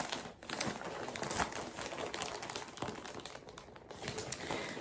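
A plastic shipping bag holding a yarn order is crinkled and torn open, a close, steady run of rustling and crackling that goes on throughout with sharper crackles scattered through it, and no talking.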